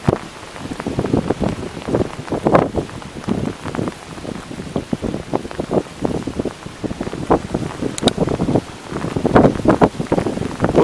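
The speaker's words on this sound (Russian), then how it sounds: "Это даже не дождь, а только град идет." Dense patter of hail striking surfaces nearby at a pond, loud and continuous with gusts of wind buffeting the microphone.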